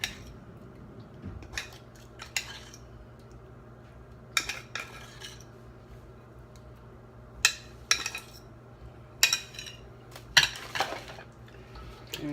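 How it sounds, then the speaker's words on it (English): Cake batter being stirred in a bowl with a utensil, giving scattered clinks and scrapes against the bowl at irregular intervals over a quiet background, with no talking. "we give it a stir"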